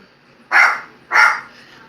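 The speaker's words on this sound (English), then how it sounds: "Doing all that old barking and carrying on and hooping and hollering" A dog lets out two loud, close barks about half a second apart, clear and strong against a quiet background.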